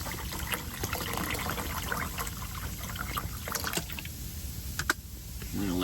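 Melted snow water is poured inside a hot tent by a lake in a snowstorm, a continuous close trickle and splash that runs throughout with slight surges.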